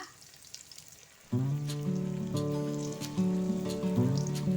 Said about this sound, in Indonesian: Kita goreng sampai warna keemasan ya, seperti biasa aja teman-teman goreng tempenya ya.